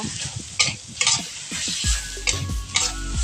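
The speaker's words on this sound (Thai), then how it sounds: "ผัดให้เข้ากันกับพริกนิดเดอร์ทุกคน" Pork with red curry paste is stir-fried in a pan: a steady sizzle runs throughout, broken by repeated scraping stir strokes of the spatula at a loose rhythm, close and moderately loud.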